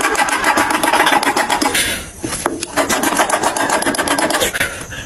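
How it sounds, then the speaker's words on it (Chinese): A file rasps back and forth across the rough, burred edge of a handmade object, loud close strokes in quick rhythm with a brief pause partway through. "在这里用锉刀锉下，因为有毛边的。"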